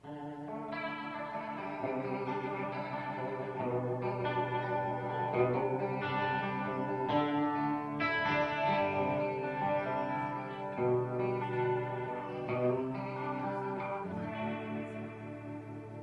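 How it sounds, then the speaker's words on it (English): Electric guitar chords swirl through a Leslie-style rotary speaker pedal, the tone warbling and throbbing steadily as chords shift over about sixteen seconds. "I think it has the best, truest Leslie sound, and it kind of does this thing here."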